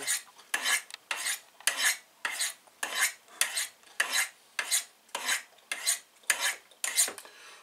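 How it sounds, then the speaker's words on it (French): A knife is drawn across the coarse stone of a Spyderco Tri-Angle Sharpmaker in about twelve steady, rhythmic rasping strokes, each a bright, close scrape with brief pauses between, and no voices. "on va commencer avec la pierre la plus rough, après ça on ira sur la fine"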